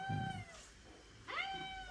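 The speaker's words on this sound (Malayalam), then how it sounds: "അതൊരു പൂച്ച കരയണോ" A cat meows twice, close by, each cry drawn out and plaintive, with a short pause between them.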